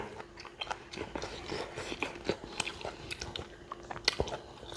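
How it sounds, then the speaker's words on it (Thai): Close, crisp chewing and crunching on duck bone from spicy duck tom yum soup eaten with sticky rice, irregular bites and crackles heard up near the mouth, fairly quiet. "นี่เเคี้ยวกระดูกมาด้วย"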